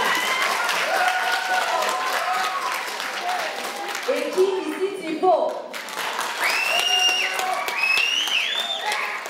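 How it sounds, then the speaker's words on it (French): Audience at a live conference-show applauding in bursts, with cheering and a talking voice over the crowd noise, the clapping swelling and dropping between spoken lines. "Allez-y, applaudissez. Je vous entends applaudir."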